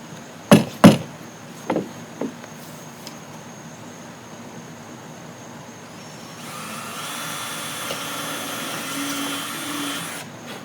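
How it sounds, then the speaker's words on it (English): A few sharp knocks and taps ring out on a boat hull during rubrail work, then a power drill whirs steadily through the hull for several seconds, close and moderately loud. "First time you drill through your boat"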